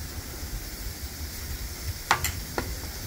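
Garlic toasting in hot smoked wagyu beef tallow makes a soft, steady sizzle, close by, with a couple of brief sharper clicks near the end and no speech.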